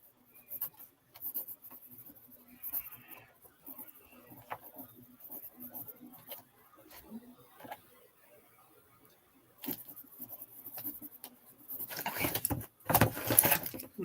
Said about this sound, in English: Okay, I'm writing it down.